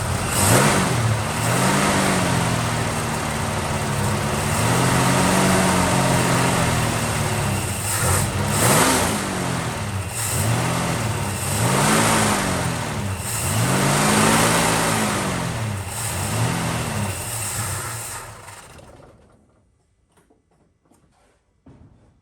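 Valiant VH Charger engine revved hard over and over with the choke fully open, rising and falling in repeated loud blips before cutting off near the end.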